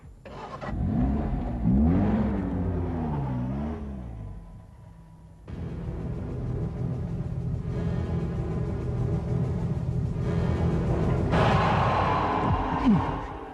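A car engine in a dramatic scene cranks and rumbles with a rising, revving pitch, drops briefly, then settles into a steady, loud drone as the car pulls away. No voices are heard.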